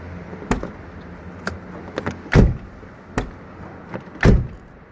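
Door latch of a Fiat Tempra/Tipo clicking shut, heard as several sharp clicks and thuds spread over a few seconds, two of them louder and heavier, with no talk.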